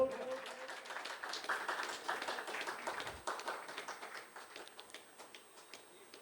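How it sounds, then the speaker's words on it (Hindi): An audience at a ceremony claps continuously, a dense patter of many hands that stays moderately loud and then thins out toward the end, with some talk mixed in. "तालियां चाहूंगा जरा जोरदार।"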